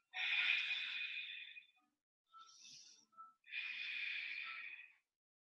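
Two long, breathy exhales during a yoga gate pose, close and steady, separated by a short pause with a few softer breaths.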